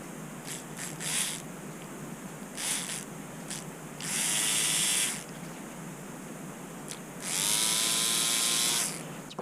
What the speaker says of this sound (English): Let's see how this motor runs.